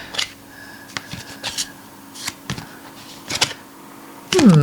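Tarot cards handled and slid back into a deck, heard as several brief papery taps and riffles spread across a quiet room, ending in a louder rustle.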